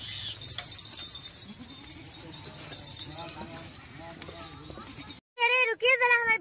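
Goats at a farm bleat near and loud in the last second or two, after a stretch of hoof-like clatter, shuffling and background voices.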